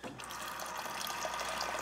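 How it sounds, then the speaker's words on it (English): Water pours steadily into a pre-workout drink mixed with salt, a close, continuous splashing trickle that runs for under two seconds with no talk over it. "Gonna put some water in there."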